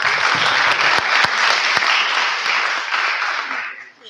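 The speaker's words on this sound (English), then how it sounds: "Give them a round of applause." A steady round of applause fills a school lab launch ceremony, with a few sharp nearby claps standing out before the clapping fades away.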